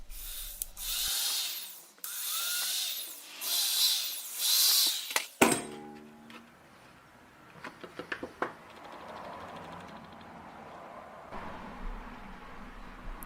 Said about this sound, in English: Next, I made a hole so I can fix the spoon to the spring.